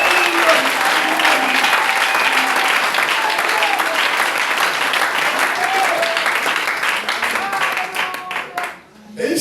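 A church congregation claps and applauds steadily and loudly, with voices mixed into the crowd noise, before the applause fades near the end.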